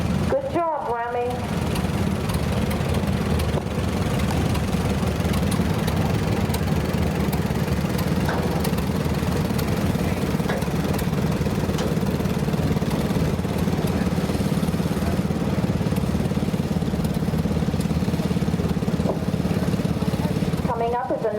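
An unstyled Allis-Chalmers tractor from its final production year runs at a steady idle in an antique tractor show parade in Mercer County. The engine chugs continuously and fairly close, with an announcer's voice carrying over it.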